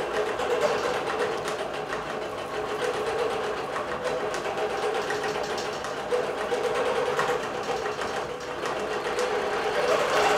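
A Bernina computerized quilting machine stitches out a digital quilt design with matching top and bottom thread, a steady, fast mechanical whirr and needle chatter, continuous and close with no pauses.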